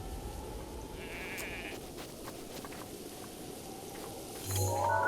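Sheep bleat in a video game, one drawn-out call standing clear over a steady crackling, buzzy background, with a louder burst at the end.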